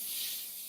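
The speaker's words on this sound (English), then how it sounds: "Did you hear that sizzling sound?" Ginger, garlic and onions hit a hot dry pan without oil and give a short, steady hiss of sizzling.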